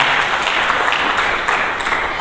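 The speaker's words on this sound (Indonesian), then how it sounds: "Mari kita berikan tepuk tangan bagi Yesus." A church congregation applauding during a sermon, a loud, dense and steady burst of many hands clapping close by, heard alone.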